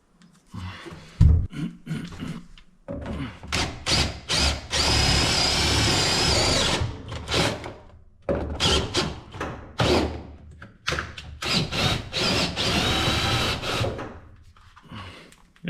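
Power drill boring a hole through a garage floor mat with a dedicated bit, loud close bursts of whirring and grinding repeated in several runs with short pauses between them.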